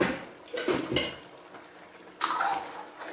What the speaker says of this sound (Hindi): इसकी अब मैं और भी अच्छी तरह बुनाई करूंगी